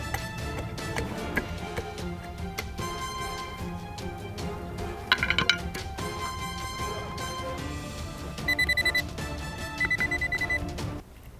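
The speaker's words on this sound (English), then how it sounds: "Detector receives signal." Metal detector signal beeping in short tonal bursts around the middle and near the end, steady and fairly close, over a dense bed of background music while old, hard soil is dug for treasure.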